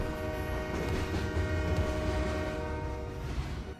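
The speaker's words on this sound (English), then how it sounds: "I summon a goddamn train." A summoned train in the video game Slay the Spire rumbles steadily with a sustained horn-like tone throughout, loud and continuous.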